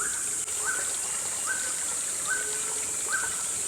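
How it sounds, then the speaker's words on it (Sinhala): Birds repeat a short, bright rising call about every second over the steady rush of a clean-water stream running through a rural family village, with the calls fairly close above the constant water noise. "ඔය සද්ද ඇහෙනව නේද කුරුල්ලන්ගේ"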